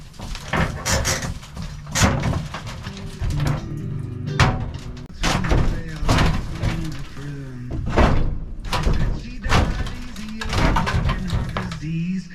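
A bolted cabinet with stripped bolts is wrenched off a wall inside an RV, producing a series of loud wooden bangs, creaks and thuds at irregular intervals, with someone talking in between.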